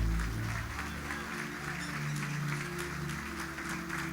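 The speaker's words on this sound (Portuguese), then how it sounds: "Os que podem, tomem o seu assento aplaudindo a Jesus, porque Ele é bom." A church congregation applauds during worship, a quiet, distant patter of clapping under sustained organ or keyboard chords that fill the background.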